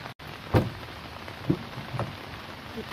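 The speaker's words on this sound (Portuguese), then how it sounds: "E tá chovendo, gente." Steady soft patter of rain falling on a tent at a campsite, with a few louder drops or taps striking a surface nearby, no voices.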